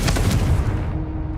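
A Confringo blasting curse cast in Hogwarts Legacy lands as a single loud, close boom with a low rumbling burst that quickly tails off into a faint hum.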